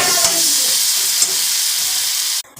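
Chilli chicken sautéing in a pan, a loud, close, continuous sizzle with faint stirring taps, cutting off abruptly near the end.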